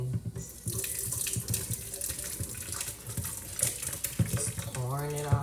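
Hot blended butternut squash soup mixture poured from a blender into a pot, a continuous liquid pour with splashy gurgling, close and fairly loud, ending in a brief rising whir.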